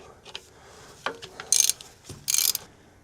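Hand ratchet tightening hose clamp fasteners on a Hitachi EX120-2 excavator, two short bursts of sharp close clicking with a few knocks between them, no talking.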